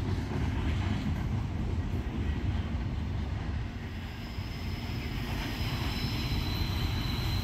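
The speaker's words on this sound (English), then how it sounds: "Tonight's train had a few trailer and flat cars, piggyback containers." A D&H freight train carrying trailer and flat cars with piggyback containers rolls past close by, a loud, continuous rumble and clatter of wheels that holds steady for the whole stretch.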